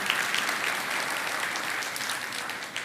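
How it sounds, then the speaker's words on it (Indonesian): Sustained applause from a church congregation during a sermon, a dense, steady clapping that fills the whole stretch without a break and with no voices over it. "Kasih tepuk tangan"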